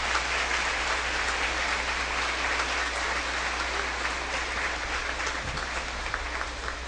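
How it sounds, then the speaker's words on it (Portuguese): Church congregation clapping continuously, a steady, dense roar of applause holding at an even level throughout. "Aplauda Jesus com alegria."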